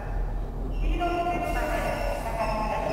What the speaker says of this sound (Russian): Поезд приехал.